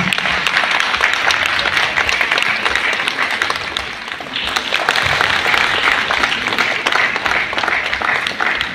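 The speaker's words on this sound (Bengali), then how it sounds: "করতালি চলুক না, অসুবিধা কি আছে?" A dense, sustained round of applause fills a hall at a classical music festival, many hands clapping steadily and loudly with only a brief dip midway.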